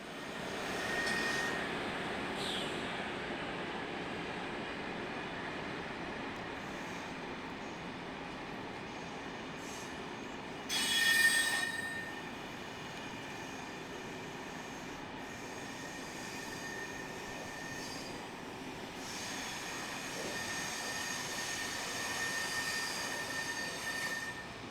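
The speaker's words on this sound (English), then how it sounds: "Number 2729 is on a commuter service bound for Mouscron." Belgian commuter train number 2729, bound for Mouscron, rumbling past at a steady level with a sharp burst of wheel squeal around the middle and a faint swell near the end, no talk.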